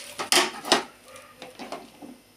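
Stirring boiling pasta in a kitchen pot: a few sharp metallic utensil knocks and scrapes against the pot, loudest early on, then softer clinks trailing off.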